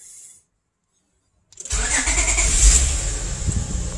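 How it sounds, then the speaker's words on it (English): A 2005 Honda Pilot EX engine cranks after a short silence and catches, settling into a loud, steady idle with no talking. "Alright, so let's start the car."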